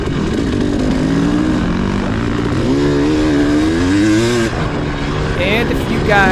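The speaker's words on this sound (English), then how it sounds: "Bike sounds crisp in that wide open throttle." A motorcycle races at wide open throttle at a Muskegon high school race, its engine a loud, steady high-revving drone with pitch rising and falling, while someone talks over it throughout.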